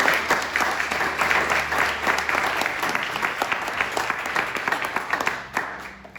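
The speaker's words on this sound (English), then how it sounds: "The first thing I really want to do is have everyone give these kind folks a round of applause." An audience at a 2022 candidates roundtable applauds the candidates, a sustained burst of many hands clapping, busy and close, thinning a little near the end.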